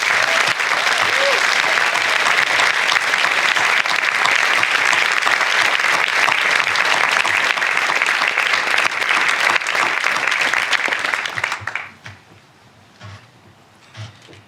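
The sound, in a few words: audience applause for graduating class at commencement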